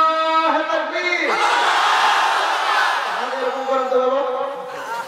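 A large crowd at a religious gathering answering a call with a loud takbir chant, many voices rising together in a sustained unison roar, with a leading voice calling out at the start and again near the end.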